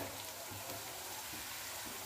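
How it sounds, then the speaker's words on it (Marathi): Chopped onion and curry leaves sizzling in a pan on low heat, a dense, steady hiss of frying that holds evenly throughout, close and without speech. "कांदा छान भाजून घ्यायचा। कढीपत्ता टाकूया"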